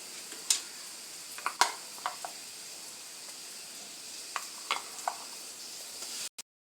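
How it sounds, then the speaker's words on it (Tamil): Ground onion, ginger and garlic masala paste stirred into a hot pan for Tamil egg gravy, giving faint sizzling with a few scattered light scrapes and clicks of a spoon, ending abruptly. "இப்போ இது நல்லா நம்ம அடித்து வச்ச மசாலாவும் இதில் சேர்த்தாச்சு"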